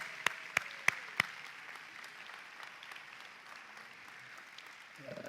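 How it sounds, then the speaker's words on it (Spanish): A church congregation gives a round of applause, opening with a few sharp claps and then settling into a soft, steady clapping that continues at a distance in a large room. "Démosle un fuerte aplauso."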